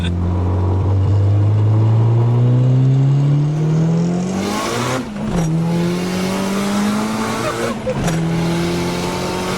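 Nissan 240sx with a fully built, turbocharged KA24DET making over 950 hp, spinning its tires and flinging small rocks; a loud engine wail climbs steadily in pitch, with two sharp breaks where the revs dip and surge again.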